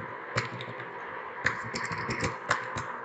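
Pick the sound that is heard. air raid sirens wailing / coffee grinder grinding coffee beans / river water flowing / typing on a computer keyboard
typing on a computer keyboard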